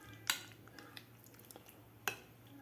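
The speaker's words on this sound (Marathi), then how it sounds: "तर बेसन पिठामध्ये व्यवस्थित आपल्याला ही ब्रोकोली मिक्स करायची आहे." Broccoli florets are folded into gram flour batter in a bowl with a metal spoon, giving soft squishy stirring punctuated by two sharp clinks against the bowl, close and quiet, with no talking.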